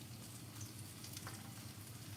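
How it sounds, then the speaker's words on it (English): Plantain slices fry in a pan of oil as part of a Jamaican brown stew fish meal, producing a soft, steady sizzle with faint crackles that holds evenly, with no voices present. "While the plantain frying, you know, plantain don't take too long to fry."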